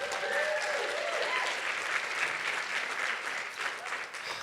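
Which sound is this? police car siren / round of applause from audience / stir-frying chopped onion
round of applause from audience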